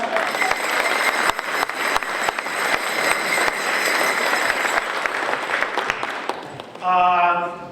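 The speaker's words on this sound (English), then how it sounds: "give him a round of applause" Audience at a Rotary senior luncheon applauding apple grower Gene Bishop, with steady clapping from many hands and a few sharper claps standing out, then a voice begins speaking just as the applause ends.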